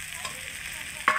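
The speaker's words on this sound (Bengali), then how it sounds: "এই যে ভেজে রাখা ভেন্ডিগুলো আমি ঢেলে দিচ্ছি" Fried okra tipped into masala in a hot pan: a brief, soft, steady sizzle that ends in a sharper burst as the pieces land.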